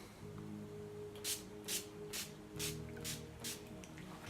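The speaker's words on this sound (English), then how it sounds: "I just have to set her face with NYX Dewy Finish, long lasting setting spray." NYX Dewy Finish long-lasting setting spray is misted onto a face in several short, crisp hissing bursts, about seven in quick succession, over a low steady background hum.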